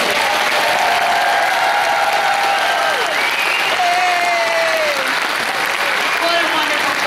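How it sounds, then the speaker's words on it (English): Sustained applause from a concert audience for the performers, steady and fairly loud, with some crowd murmur and a few whistled tones cutting through. "I think they deserve another applause"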